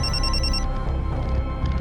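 A mobile phone rings indoors, a steady electronic trill that stops partway, then a softer repeating tone over a constant room hum.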